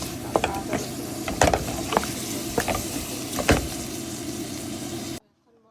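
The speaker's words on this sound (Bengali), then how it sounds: "চিংড়িগুলো ভাজা হলে তারপরে পেঁয়াজ, কাঁচামরিচ, তারপর আদা রসুন" Shrimp frying with onion, green chili, ginger and garlic in a home kitchen pan, a steady sizzle broken by several sharp scrapes and clanks of stirring, then abrupt silence near the end.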